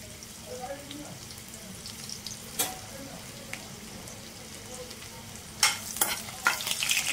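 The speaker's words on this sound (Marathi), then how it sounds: "तेल गरम झालंय, ह्यामध्ये आपण ठेचलेला लसूण टाकणार आहोत" Crushed garlic sizzles quietly in hot oil in a pan. A steady soft crackle runs throughout, with a few utensil clinks and a louder stir near the end.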